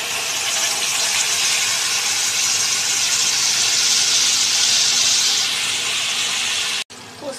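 A paste of poppy seed, charmagaj and cashew hits hot oil that has just been used for frying fish, giving a loud, steady sizzling hiss that cuts off abruptly near the end.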